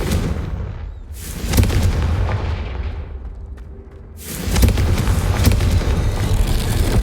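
A Confringo fire spell is cast in Hogwarts Legacy, giving deep booming blasts: one burst early, then a long, loud rumbling explosion through the second half, with no voices.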